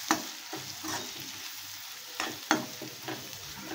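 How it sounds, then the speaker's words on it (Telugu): Onions frying in a pan as small bitter gourds are added and stirred, with a soft, steady sizzle broken by close clinks and scrapes of a spoon. "ఇలా ఫ్రై అయిన తర్వాత చిన్న కాసరకాయలు వేసేసుకొని బాగా కలుపుకోవాలి"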